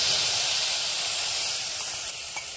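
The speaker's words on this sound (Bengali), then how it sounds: "সব মশলাটা মিক্সড করে এবার মশলাটা দিয়ে দাও" Mixed spice paste of ginger, cumin, onion, dried chilli and turmeric sizzles steadily in hot oil, a loud, close hiss that fades slightly toward the end.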